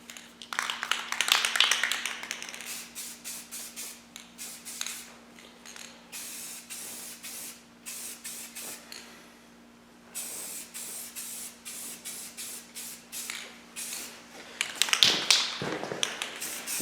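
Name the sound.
spray painting second coat on Tusk rack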